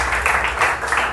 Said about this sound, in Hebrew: חבר'ה, קבלו את עידו במחיאות כפיים בבקשה